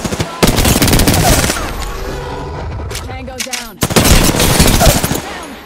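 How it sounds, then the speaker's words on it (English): Loud, close automatic gunfire from Apex Legends rattles almost continuously, dipping briefly near the middle before another heavy burst of rapid shots. "Shooting at me."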